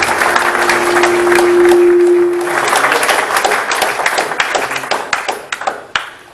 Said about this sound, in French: je pense qu'on pourrait tous les applaudir pour tout ce qu'ils font